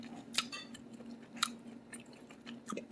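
Grilled hanger steak being chewed up close, with soft, irregular bites and squishes. A few sharper crunchy moments stand out over a quiet background.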